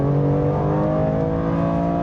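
A BMW M2 Clubsport on a race track accelerates hard, its engine a loud, close, steady drone with rising harmonic tones and no talking over it.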